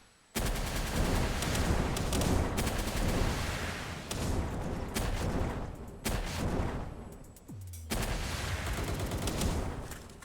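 Semi-automatic rifle gunfire in the video game Palworld, with shots rattling off in dense, loud bursts that run almost continuously, broken by brief pauses, with no talking.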